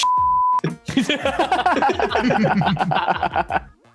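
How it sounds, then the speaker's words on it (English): A single steady electronic quiz buzzer beep sounds briefly, then people break into lively laughter and chatter. "Phil, get the buzzer ready."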